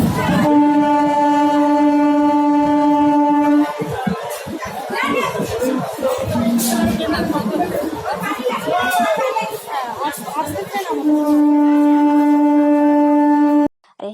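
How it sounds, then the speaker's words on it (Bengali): Crowded Kolkata local train at a station: a long steady horn opens and closes the scene, with dense crowd chatter and rattling carriage noise between, close and loud. "এই হলো কলকাতার লোকাল ট্রেন বুঝছেন লোকাল ট্রেনে এইরম ভিড়"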